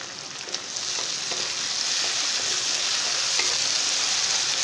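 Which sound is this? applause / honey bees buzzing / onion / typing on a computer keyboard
onion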